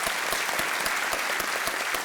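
Studio audience on the KBC quiz show welcomes a contestant's father with dense, sustained applause, many hands clapping at a steady even level with no voices over it.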